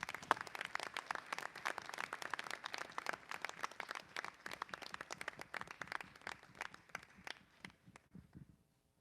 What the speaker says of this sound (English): If we could give the football players a round of applause.